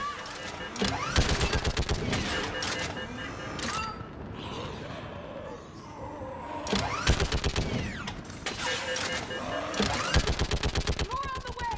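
Rapid automatic gunfire in the sci-fi shooter Mass Effect comes in loud, dense bursts of clattering shots, several volleys with short lulls between, mixed with shouted combat voices.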